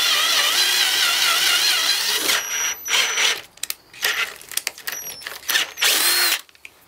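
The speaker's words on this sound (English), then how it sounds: "So I just drilled it out right on the bike." A power drill drilling into an aluminum motorcycle fender whines steadily at first, then stutters in short bursts with pitch changes as the bit bites and stops, close and loud, with no talk.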